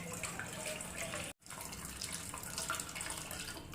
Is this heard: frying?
no